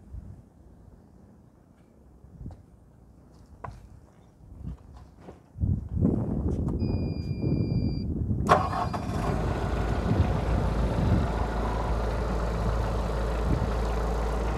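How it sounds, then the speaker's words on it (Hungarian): Faint shuffling and clunks, then a Maximál M40x forklift's diesel engine cranks and catches with a sharp jolt, settling into a loud, steady rumbling idle. "indítsuk be a motort, kicsit mozgassuk meg a gépet"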